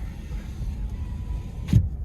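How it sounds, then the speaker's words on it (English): A car's interior hums steadily with low road rumble, then a short whirring thump near the end as a power window shuts. "I better close the window."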